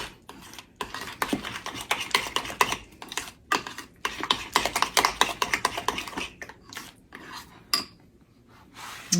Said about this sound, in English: I'm gonna mix this up real good.